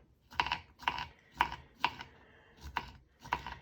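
Vegetables being diced with a knife on a cutting board for stuffed zucchini, six crisp, evenly spaced chops heard close and alone.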